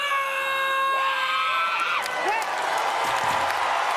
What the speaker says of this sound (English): A huge roar from both athlete and crowd